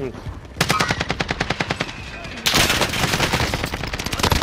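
Video game gunfire in rapid automatic bursts, loud and close, one long rattling stream followed after a short pause by another dense burst.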